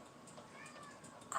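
A female cat in heat gives soft, drawn-out meows indoors, faint and close, ending in a brief louder sound.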